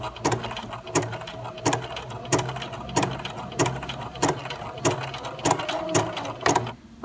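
A BERNINA sewing machine stitches a Spanish hemstitch with ribbons, running slowly in a regular rhythm of sharp mechanical clacks about twice per second, close up and fairly quiet.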